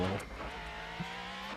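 A car engine in the PS2 game Transformers Armada gives a smooth, steady humming drone with a faint rise in pitch, heard alone for a brief moment.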